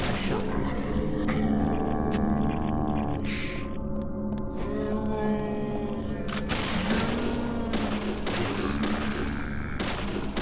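Repeated gunfire from the horror game Deadly Premonition, with shot after shot fired at a single enemy over steady game music and ambience, loud and continuous through the stretch.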